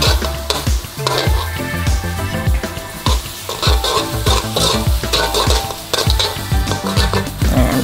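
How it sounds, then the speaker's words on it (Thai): Chili and garlic stir-fried in a wok, loud continuous sizzling with rapid, rhythmic spatula scrapes and clanks against the metal every half second or so, close and busy. "ใส่พริกกับกระเทียมนะคะที่เราเตรียมเอาไว้ผัด"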